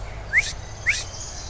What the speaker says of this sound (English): So listen out for the vocalization of the eastern phoebe.